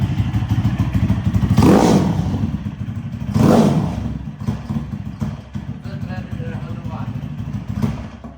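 A Delta go-kart with a YX160 160cc engine runs on its carburetor, rumbling in a low, uneven idle that swells into two short rev bursts early on, with voices talking nearby.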